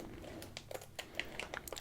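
Scissors slowly snip through the top of a Jaffas snack packet, giving soft crinkling and small crisp cuts in a quiet, close ASMR setting with no talking.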